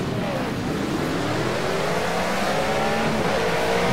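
A full grid of race cars in the Project Cars video game roars along, engines droning and rising in pitch as they accelerate, a steady dense wash of motor noise with no one talking.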